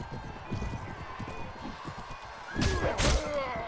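Horse hooves thud and clop during a medieval battle in Mount & Blade Warband with the A World Of Ice And Fire mod, alongside impacts and a louder crash of hits near the end.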